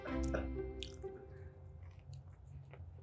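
A hot dog drops into a pot of water, making a short wet splash near the start, then softer drips and squishy sloshing that fade away.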